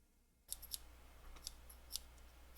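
Scissors snip through paper to cut papel picado, giving a quiet, close series of crisp snips and rustles at irregular intervals in a hushed ASMR setting.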